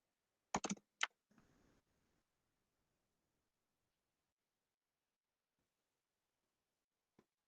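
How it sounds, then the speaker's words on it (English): A few quick keystrokes clatter on a computer keyboard in a quiet classroom setting, a short burst of sharp clicks followed by a softer rattle, then near silence with one last faint tap. "I'm typing this in."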